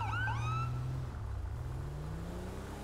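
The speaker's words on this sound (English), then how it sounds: "I'm using the Whelen Epsilon Siren." Whelen Epsilon police siren in GTA V, loud and close, sweeping in quick rising and falling yelps before settling into a lower steady wail over a car engine drone.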